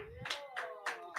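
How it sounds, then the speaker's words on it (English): Audience applause for a comedian at an open mic night, four quick bursts of clapping close together, moderately loud, with a faint voice underneath at the start. "give a round of applause for my friend, Nick Barcelino"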